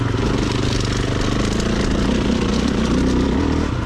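Stark Varg electric motorcycle accelerating on an enduro trail, a steady loud drone with rising whine and clattering wind noise throughout, close to the rider.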